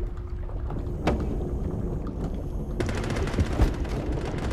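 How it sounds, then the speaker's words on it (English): Rapid bursts of machine gun fire ring out in the underwater shark-versus-divers video game Depth, a dense rattling barrage over a busy game soundscape, with sharp peaks near the start and again toward the end. "Oh, someone's got a machine gun."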